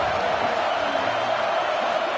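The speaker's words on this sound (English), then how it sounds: "This crowd ready to make its presence known." A stadium crowd at a football game roars in a steady, loud wash of cheering that holds evenly with no breaks.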